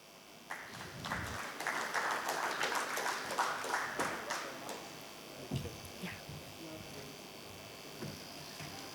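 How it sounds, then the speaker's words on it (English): A crowd at a business forum on opportunities in Afghanistan claps in a loud, dense burst that peaks early, then thins out into scattered claps, with some talk mixed in. "Please give a big round of applause, everyone."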